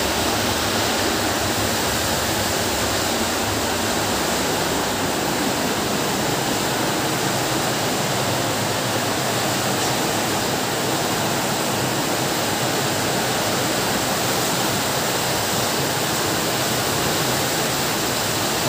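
Floodwater from Typhoon Carina pours into a house in Montalban, Rizal, a loud, continuous rushing roar with no break for nearly twenty seconds.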